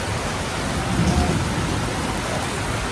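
Heavy rain pours down in a thunderstorm. A dense, loud, close hiss continues without a break, with a low thunder rumble swelling briefly in the middle.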